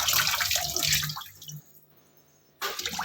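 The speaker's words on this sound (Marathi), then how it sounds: "आता हे टोमॅटो पाण्याने स्वच्छ धुवून घेऊ" Running water splashes over tomatoes being washed, loud and close in two bursts with a quiet gap of near silence between them.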